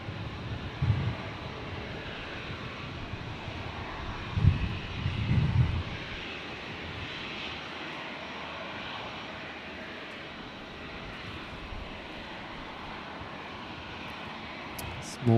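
A Dash 8 turboprop airliner lands at Brisbane Airport, its engine making a steady broad roar at moderate distance that swells briefly at the start and then holds.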